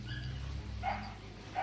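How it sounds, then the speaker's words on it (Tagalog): A dog barking somewhere near a hut or house on a mountain, two faint distant barks in quick succession over background noise, with no talk. "ano dito, yung tunog ng aso."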